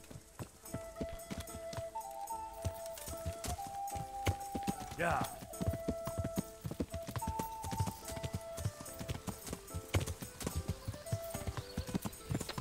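Horse hooves clip-clop steadily as a rider travels in Kingdom Come Deliverance, a rhythmic walking gait over ambient music with a brief whinny midway and someone speaking now and then.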